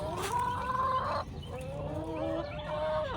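Chickens cluck and squawk in a steady, close chorus, with a few longer drawn-out calls rising over the flock of eight.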